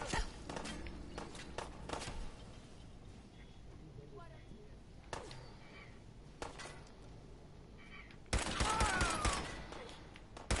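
Pipe pistol shots ring out in the video game Fallout 4, a few scattered sharp reports with a louder burst of rapid fire near the end, mixed with footsteps and game noise.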